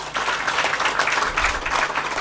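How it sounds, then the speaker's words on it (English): A book launch audience applauds in a hall, a steady wash of moderate clapping lasting a couple of seconds, somewhat distant and even. "Give a big round of applause."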